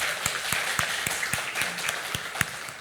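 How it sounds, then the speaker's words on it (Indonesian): Audience applause at an Indonesian parliamentary discussion on boosting overseas voter participation, a steady wash of many hands clapping with a few sharper individual claps standing out, moderately loud and continuous throughout. "Kita beri tepuk tangan"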